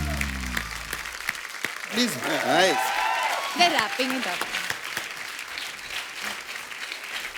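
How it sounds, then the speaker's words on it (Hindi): An audience applauds for the film team at a promotional event, a dense, even clapping that runs under a host's and other voices speaking throughout. "एक बार आरआरआर की पूरी टीम के लिए जोरदार तालियां।"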